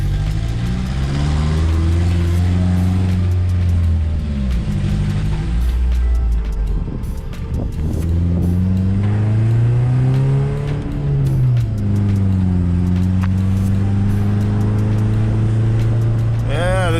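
A Honda CB9 wagon on freshly lowered suspension drives along. The engine's drone climbs and falls through repeated rev swells and gear changes, loud, close and continuous from inside the car.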